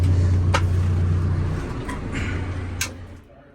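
A John Deere 410K backhoe engine idles with a low, steady drone, then the throttle shifts and the tone rises and falls, with a few sharp clicks before the sound drops away near the end.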